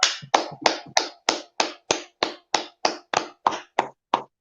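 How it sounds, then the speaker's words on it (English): A group claps in a steady, evenly spaced rhythm, about fourteen crisp, close claps at a history class gathering, with no talking over them. "Akim, clap it up."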